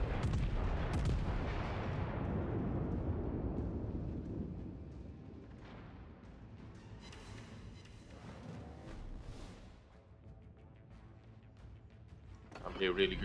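Battleship Missouri's main guns fire a broadside in the naval video game World of Warships, a heavy booming blast that rolls out and decays over several seconds, followed by quieter rumbling and scattered distant reports.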